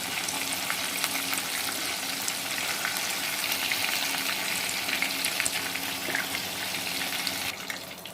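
Pieces of Kentucky-style breaded chicken fry in hot oil until browned, giving a steady, close, dense sizzle and crackle with faint watery bubbling, throughout and without talk.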